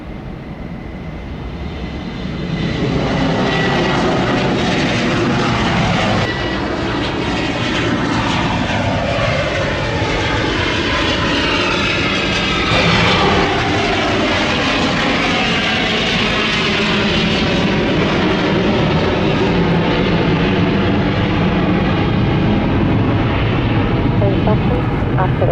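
Jet aircraft taking off from runway 27 at Gibraltar Airport, a loud, sustained roar that swells after a quiet first few seconds and holds steady, broad and rumbling, with radio voices faintly underneath.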